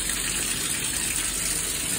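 Water gushes steadily from a tap during a cleaning rinse, a continuous close hiss of running water with no talking.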